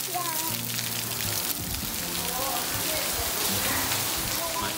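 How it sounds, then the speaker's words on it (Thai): Rain falls steadily on the spacious, shady grounds of a rural Thai home, a close, dense patter and hiss, while people talk over it. "ฝนตกทำอะไรไม่ได้นะเพื่อนๆ"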